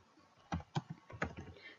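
A computer keyboard typed on briefly: a handful of soft key clicks in a short burst, close and quiet, with no talk.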